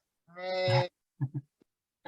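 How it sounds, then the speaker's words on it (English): Sheep from a small herd call out close by: one long, drawn-out bleat, then a couple of short, low grunting bleats and a faint trailing call. "This is our little herd of sheep."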